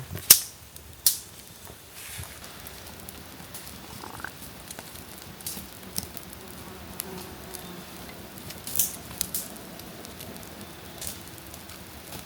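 A small campfire on an Appalachian Trail campsite burns quietly, with faint steady crackle and scattered sharp pops over a low hiss, heard up close with no talking.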